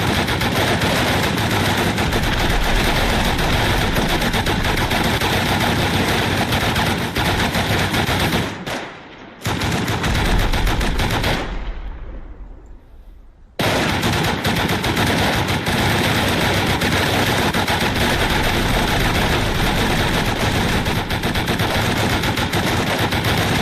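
M2 turrets in the game Rust fire incendiary rounds in loud, dense, continuous automatic bursts. Two brief pauses break the roar before it resumes at full intensity.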